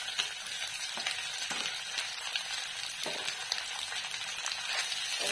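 Onion, capsicum and carrot stir-frying over a full flame for Hakka noodles, a continuous close sizzle with repeated spatula scrapes and knocks against the pan, no voices.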